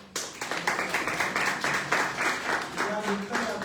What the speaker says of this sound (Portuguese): Então vamos aplaudir o nosso rei,